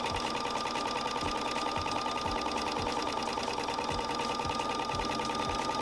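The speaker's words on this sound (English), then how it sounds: "And so we're ready to sew this." A home sewing machine sews pleats into a shirt, running in one continuous, steady, close whir with a regular mechanical pulse throughout and no voices.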